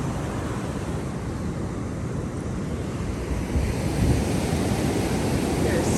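Ocean waves breaking on a Florida beach, a steady loud surf roar with wind buffeting the microphone and a swell of crashing water toward the end.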